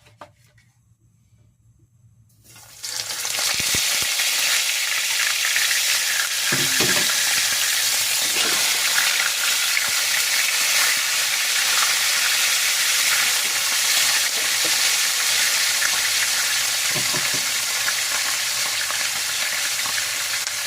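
Lapu-lapu fish for sweet and sour fish fries in hot oil, starting after a quiet moment and then settling into a loud, steady, close sizzle with a few faint clatters and no voices.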